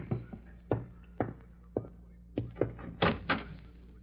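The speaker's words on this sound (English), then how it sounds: "Someone's at the door." Door knocks and handling thumps in a 1952 old-time radio mystery drama, a series of about nine close, hollow wooden raps and clunks in an irregular rhythm over a quiet room.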